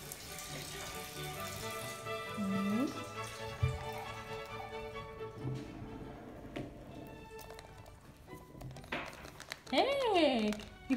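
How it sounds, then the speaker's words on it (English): A Kinder Surprise egg toy is unwrapped with crinkling foil and plastic rustles, close and intermittent, while a toddler's voice and an adult's voice talk and squeal over it. "Let's open the egg."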